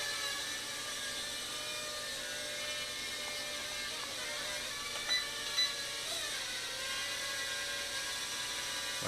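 JJRC F180 toy quadcopter flying, a steady high-pitched whine of small motors that holds throughout, with slight pitch shifts and a couple of brief louder blips, no talking.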